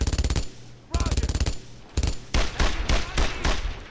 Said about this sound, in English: He's suppressing fire on that enemy.